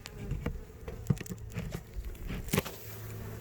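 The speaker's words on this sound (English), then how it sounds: "listen to those bees buzzing" Faint buzzing of honeybees inside a hive with scattered soft taps and crackles, close by and quiet, no talking.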